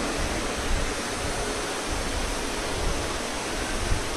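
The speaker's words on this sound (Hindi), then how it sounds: "जब पानी गिर रहा होगा" Heavy rain pours down in Gurugram, Haryana, a dense, unbroken roaring hiss that stays steady and loud throughout with no voices.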